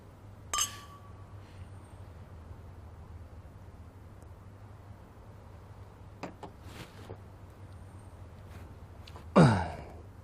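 Wine glasses clink in a toast, a bright short chime followed by a later louder clink near the end, with a few small knocks between them in a quiet room.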